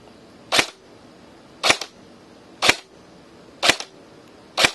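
A PTS M4 airsoft rifle with an Elite Force magazine fires .2 gram BBs in five sharp, close single shots, spaced about a second apart, each with a short mechanical snap over a quiet background.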